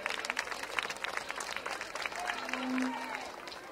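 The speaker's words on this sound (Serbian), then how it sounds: "Još jedan aplauz za Viktoriju." An audience claps at a music festival in Donji Milanovac, with a fairly soft, dense burst of applause under a voice speaking over it.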